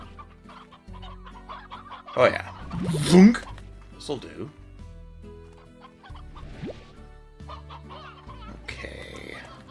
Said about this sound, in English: We have some more hens.